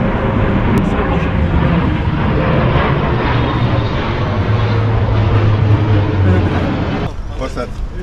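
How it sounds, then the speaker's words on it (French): An airplane passing overhead beside an Amsterdam canal, a loud broad engine roar that holds steady for several seconds and then eases, with voices talking over it. "Oh, un avion."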